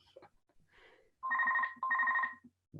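A mobile phone rings nearby in a quiet room, two sustained bursts of a trilling electronic ringtone separated by a short gap, with a few brief vocal sounds just before.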